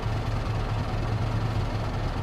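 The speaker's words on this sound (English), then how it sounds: "I like this truck. I like the sound of it." A heavy truck engine in Euro Truck Simulator 2 idles steadily with a deep, rumbling low throb, close and continuous without a break.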